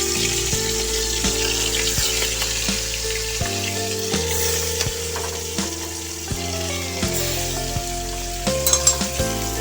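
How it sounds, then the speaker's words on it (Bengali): Prawns for Bengali prawn malai curry sizzle and crackle in hot oil in a wok, a loud close continuous frying hiss, with a steady low hum underneath and scraping stirs toward the end; no talking. "এবার চিংড়ি মাছগুলো নেড়ে নেড়ে একটু আমি ভেজে নেব।"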